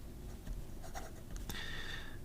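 Wing Sung fountain pen with a number 8 steel nib scratching across paper, faint and close, skipping slightly as it runs low on ink, with a sharper scratchy stroke near the end.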